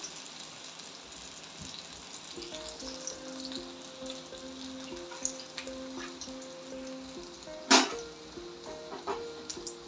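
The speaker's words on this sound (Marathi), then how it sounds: "ते एक बाजूने तळून घेऊया आपण एक दोन मिनटं" Solapuri onion bhaji frying in hot oil makes a steady, gentle sizzle under a faint musical tone, broken by one sharp clatter partway through.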